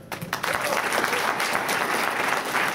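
A convention crowd at Salt Lake Comic Con claps in a steady burst of applause, fairly close and even throughout, with no talk over it.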